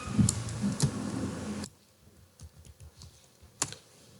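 Someone types a short word into a search box on a computer keyboard, first as a burst of loud, close clicks, then as sparser, quieter keystrokes with a sharp final tap.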